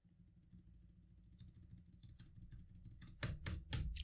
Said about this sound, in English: when I click something on my keyboard, you can hear the keyboard from the microphone